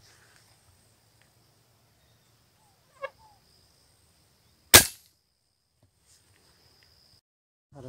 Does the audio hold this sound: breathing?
no